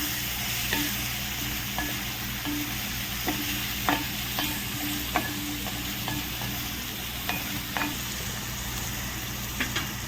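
Beef roast is stirred with salt in a pan over a constant frying sizzle, with a spoon scraping and clinking against the pan at regular intervals, close and with no talking.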